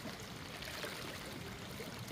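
Steady rushing of strong floodwater flowing through a village street during a typhoon, a continuous broadband roar with no pauses and no voices.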